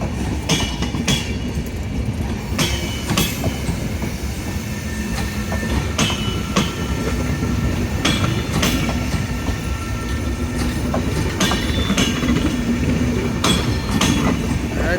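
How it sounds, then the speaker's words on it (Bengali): A Chitra passenger train rolls slowly along the rail in a steady, continuous rumble, with repeated clicks of wheels over rail joints sounding throughout. "ট্রেন একদম স্লো করে দিছে, সেই জন্য রানিং ট্রেনে থেকে নাইমা যাইতেছে।"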